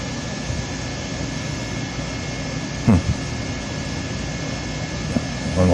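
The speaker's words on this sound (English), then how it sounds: "One little private plane there." A small private plane passes overhead, a steady broadband engine drone holding at an even level, with a couple of brief knocks near the microphone.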